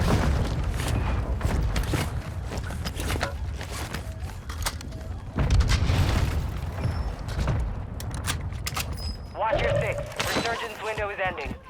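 Loud Call of Duty Warzone explosions boom among dense gunfire and clatter, with voices talking over the action.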